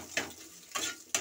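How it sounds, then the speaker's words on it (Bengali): A single egg fries in a pan and is broken up into crumbly scrambled bits, giving a steady close sizzle with a few brief scraping stirs and no talking. "প্রথমে আমি এখানে ডিমটা আগে থেকে ভেজে নিচ্ছি।"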